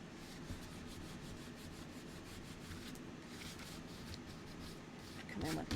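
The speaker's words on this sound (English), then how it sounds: "Rubbing off the extra glue." A rubber glue eraser is rubbed back and forth over paper to lift off excess adhesive during papercrafting, a soft, close, continuous scuffing with a slightly louder rustle at the end.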